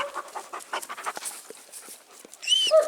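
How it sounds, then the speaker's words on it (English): A dog panting close by in quick, rhythmic breaths, with a faint whine or bird chirp toward the end. "Here comes a dog now."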